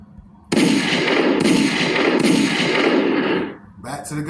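Three rapid gunshot sound effects crack in quick succession, loud and reverberant, their echoes decaying before a voice starts speaking.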